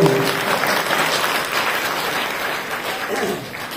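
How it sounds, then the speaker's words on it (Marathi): Steady applause from an audience at a Navratri festival lecture series gathering, a dense continuous clatter of clapping that holds for several seconds and gently eases off toward the end, with no talking over it. "मग टाळ्या वाजून सांगायला जाऊ"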